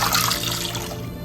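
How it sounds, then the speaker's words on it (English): Water pours from a tap into a cooking pot holding beef, a steady broadband rush heard alone and close for just over a second. "Fill with water."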